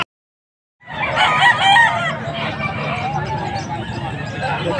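A stag rooster crows loudly and near at a cockfight arena in Angeles, Pampanga, with a long drawn-out call over crowd murmur and people talking.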